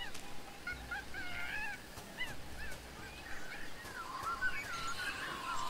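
Bird calls in Tales of Monkey Island chirp in short, rising and falling phrases at moderate volume, with a busier burst toward the end over a steady ambient background.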